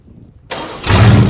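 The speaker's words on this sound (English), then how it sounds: "All right, David, let's fire this big boy up." A large frost protection propeller machine's engine cranks over with a harsh sudden burst, then catches and settles into a loud, deep, steady running roar.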